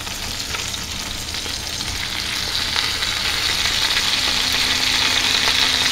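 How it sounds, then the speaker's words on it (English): Steady, loud sizzling and hissing of cabbage frying in sausage grease in a pot, continuous throughout with occasional crackles and a faint low hum underneath. "start sizzling because the cabbage has water, obviously, and all the grease down in the bottom of the pot"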